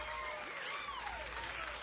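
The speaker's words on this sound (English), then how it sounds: "The crowd goes absolutely wild." Brief burst of steady applause from a comedy audience, thick overlapping clapping with a few whoops, moderately loud and continuous.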